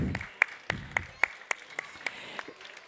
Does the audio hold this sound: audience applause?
yes